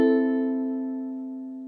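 A single strummed ukulele chord rings out clear and close, its harmonics sustaining and slowly fading across the whole stretch with nothing else heard.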